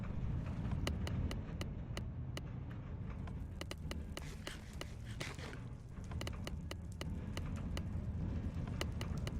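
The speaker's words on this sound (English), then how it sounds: "the sound effects is basically a minecart" A steady rolling rumble runs throughout with sharp rhythmic clicks ticking over it, a minecart moving along rails in modded Minecraft (SevTech Ages).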